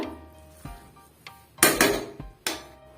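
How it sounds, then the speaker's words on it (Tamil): Metal clanks and knocks as a pressure cooker holding mushroom biryani is opened, with a few sharp lid and pot clatters, two of them loud, between quieter handling noises. "இப்ப நம்ம குக்கரை ஓபன் பண்ணிடுவோம்"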